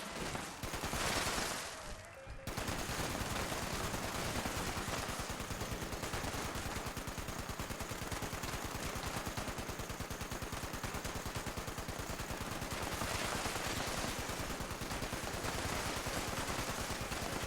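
Rapid, sustained automatic gunfire in the video game Fallout 76, a dense unbroken stream of shots that runs almost the whole time after a short lead-in.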